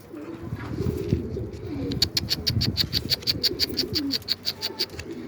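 Dove or pigeon calls coo steadily under background noise, followed by a fast, regular series of high chirps repeating about every quarter second.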